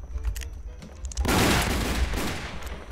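Video-game gunfire in a Wild West setting: a dull low rumble gives way to a dense, sustained volley of overlapping shots that stays loud until the end, with no talking.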